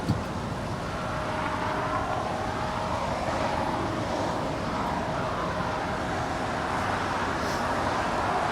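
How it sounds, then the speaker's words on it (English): A JetBlue Airbus A321 rolls down runway 25 right at Los Angeles International Airport, a broad steady jet roar with a faint whine holding evenly throughout, no voices. "JetBlue Airways, flight 2885 heading to Miami. It's an A321, now rolling down 25 right."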